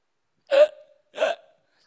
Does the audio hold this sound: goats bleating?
no